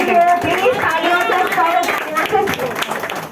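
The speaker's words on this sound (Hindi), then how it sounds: "जोरदार तालियां बजाइए।" Audience applause at a Ganpati Bappa celebration, dense steady clapping from a crowd with voices mixed in throughout, fairly loud and continuous.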